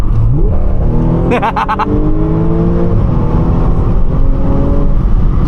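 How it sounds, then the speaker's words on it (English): An Audi S5 accelerating hard in automatic sport mode, engine revving up loud and close from inside the cabin, with a rising pitch that steps at a downshift before climbing again. "if I put my foot down and I put it in auto, is it going to downshift to the red line?"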